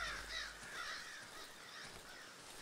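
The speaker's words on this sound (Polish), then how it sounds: "I ptaki." Crows cawing in the video game Darkwood, a faint, continuous harsh chatter of calls over quiet ambience.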